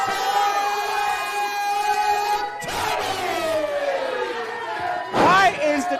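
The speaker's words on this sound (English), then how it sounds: "Why are you guys cheering him?" A wrestling show crowd roars and cheers loudly and continuously, with swelling shouts near the middle and again near the end, under an announcer's amplified voice.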